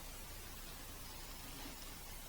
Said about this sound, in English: they're going to be scanning, they're going to be making this weird white noise sound.